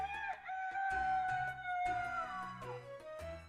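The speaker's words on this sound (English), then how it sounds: "I can hear the squawking of a chicken coming from somewhere nearby" A chicken squawks and crows nearby in the Island game, its rising calls repeating over a short stretch with faint background tones.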